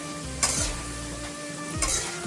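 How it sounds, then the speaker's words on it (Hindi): Potato pieces frying in oil for a long beans and potato curry, a continuous soft sizzle with two clear spatula scrapes against the pan, with no one talking. "तो फ्रेंड्स इसी तेल पे मैं पहले आलू को फ्राई कर लेंगे। आलू को मैं 2 मिनट फ्राई कर लेंगे।"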